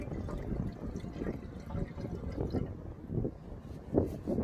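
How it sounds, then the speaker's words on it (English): Water pours into the coolant expander tank of a Suzuki Swift ZC31S, a soft, close gurgling splash with uneven surges. "we'll put a little bit more water in the expander tank"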